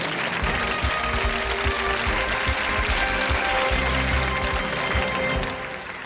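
Studio audience on a TV quiz show applauding a departing contestant, a dense continuous wash of clapping that eases slightly at the end.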